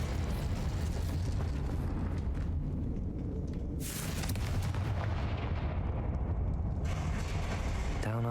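A Confringo blasting spell explodes in Hogwarts Legacy, a heavy rumbling blast that rolls on continuously with a sharp crackling burst partway through, loud and close, no talking.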